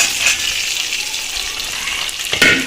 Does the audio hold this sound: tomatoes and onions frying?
yes